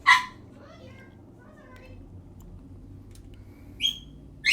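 A dog gives short sharp barks, one at the start and two more near the end, close and loud against a quiet room, with talking in between.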